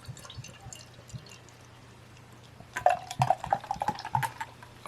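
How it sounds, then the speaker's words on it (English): Paulaner Salvator beer is poured into a ceramic glass: a quiet stretch of handling gives way to a bright, gurgling pour with clinks against the ceramic, lasting a couple of seconds. "I'm just going to pour this into the glass just so I can show you the colour"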